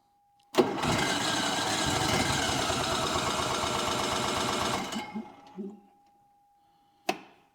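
Onan Marquis 5000 generator engine cranks and catches with a sharp start, then runs loudly and roughly for about four seconds before winding down to silence, followed by a single thump.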